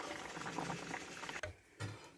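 A pot of tomato bisque with vegetables comes to a boil, giving a soft, steady bubbling and hiss close by with a brief dip partway through, no talking.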